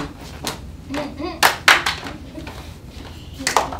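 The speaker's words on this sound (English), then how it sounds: "I want you to clap it this time" Students in a music and math class clap a rhythm together, a few separate sharp claps spaced out in a pattern, with some spoken counting between them.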